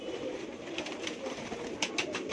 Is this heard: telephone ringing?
no